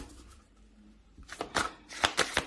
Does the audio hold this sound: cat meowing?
no